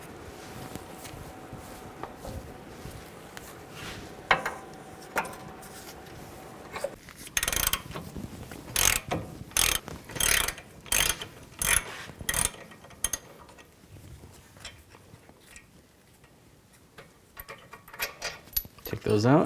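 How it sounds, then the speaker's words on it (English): Ratchet with a 21mm socket loosening brake caliper bracket bolts on a 2006-10 Mercury Mountaineer, quiet handling at first, then a run of loud rapid ratcheting clicks in bursts, with someone speaking over parts of it. "Take these two caliper bracket bolts out. Use a 21mm socket."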